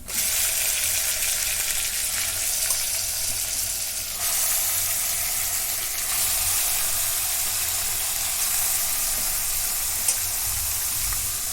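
Chicken sizzles steadily in hot oil in a pressure cooker, a continuous close frying hiss with occasional faint stirring.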